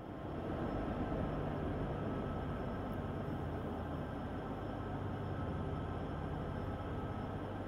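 Train passing in Train Simulator 2022 on the Salzburg–Rosenheim route, a steady loud rumble with rolling wheel noise that holds throughout without fading.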